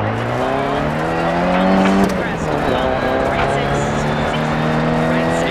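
A Mini Cooper S rally car on a Varmland, Sweden stage in the racing game DIRT 4 revs loudly with rising and shifting engine tones, while a voice talks over it.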